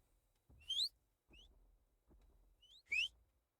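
Short rising whistles in a video game, two louder ones and a couple of faint ones, each paired with a low soft thud, spaced about a second apart in a quiet scene.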